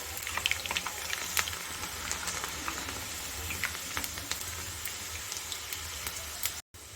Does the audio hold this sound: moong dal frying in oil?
yes